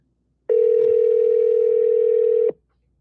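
A steady, loud telephone tone sounds alone for about two seconds as a call is placed to a realtor, starting and stopping abruptly.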